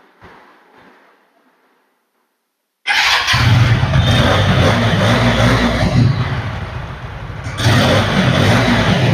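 A second-hand TVS Apache 4V ABS motorcycle sits quiet after faint handling noise, then its engine fires up abruptly and settles into a loud, steady idle close by, with a slight rev near the end.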